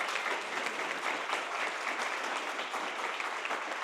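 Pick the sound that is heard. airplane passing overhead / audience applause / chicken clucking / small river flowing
audience applause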